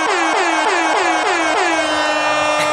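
Five loud air horn blasts in quick succession, each a harsh blaring tone that dips slightly in pitch, followed by a long sustained blast.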